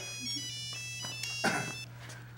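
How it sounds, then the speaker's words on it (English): A mobile phone ringtone plays a short melodic sequence of bright electronic tones over a steady low hum, fairly quiet and alone. "Dude, answer your phone."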